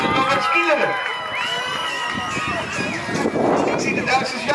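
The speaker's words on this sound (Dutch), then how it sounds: "Ik zie de Duitsers juichen." Crowd cheering and shouting at an outdoor youth inline skating race in Medemblik, a dense continuous roar of voices with whoops rising near the end, under an announcer's voice.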